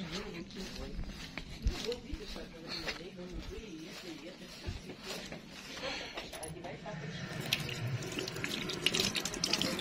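Tap water runs steadily into a sink for hand washing at a country house, a close continuous splashing with people talking over it throughout.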